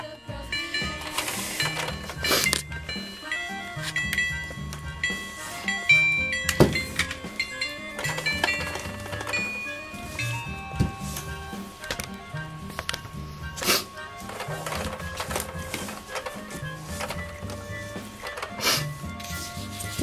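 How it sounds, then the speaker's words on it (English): A Thomas-themed toy vending machine running, with whirring motor, clicks, clunks and short electronic tones and jingles repeating throughout at moderate volume, with no speech. "Hey, it's a Thomas vending machine."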